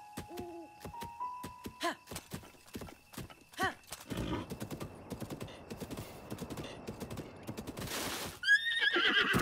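A horse in The Legend of Zelda: Breath of the Wild clip-clops in quick hoofbeats, then lets out a loud neigh near the end. Game chimes and effects sound early on, and faint background sounds carry under the hooves.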